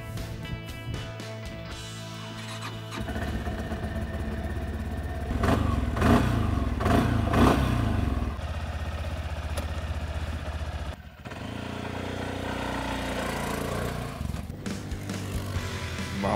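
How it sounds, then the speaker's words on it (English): A cheap 4x4 ATV's 300cc, 21-horsepower, liquid-cooled single-cylinder engine cranks, catches and runs with a rough, clattering idle, revving up a few times before settling back, loud and close. "And here it is, 300cc 21 horsepower single-cylinder liquid-cooled engine."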